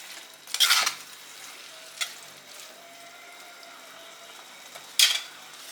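Prawns sautéing with tomatoes and turmeric in a pan, with loud sizzling bursts at the start and end as the mix is stirred, a brief clink of a spoon between, and a quieter frying hiss throughout.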